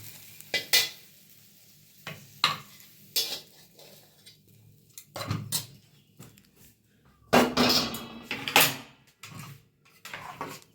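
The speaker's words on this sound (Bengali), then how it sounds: "এই ডালিয়ার মধ্যে দিয়ে দেবো, দিয়ে সুন্দর করে ঘাটিয়ে নেবো" Dalia porridge with vegetables being stirred in a pot, a spoon scraping and knocking against the metal in irregular bursts, close and fairly quiet, with a louder cluster of scrapes near the end.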